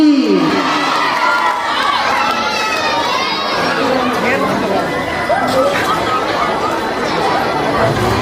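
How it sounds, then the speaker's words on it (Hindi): An audience at a Shrimad Bhagavat Katha religious gathering bursts into loud, dense noise of clapping, cheering and excited shouting, including children, with babble of voices continuing throughout. "सभी लोग जोरदार ताली बजाएंगे।"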